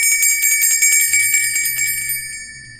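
Bright metallic chimes ring in a quick run of strikes, their long sustained tones shimmering and slowly fading, close and loud with no voices.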